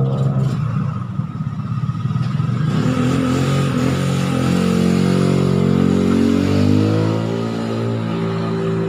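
A Honda Click 125 scooter engine runs loud and close, revving up from idle into a steady throbbing drone before easing back slightly.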